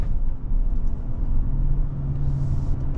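A 2025 Lincoln Aviator Reserve AWD SUV heard from inside as it drives through a turn, a steady low road and engine rumble with a faint rising hum, no talking.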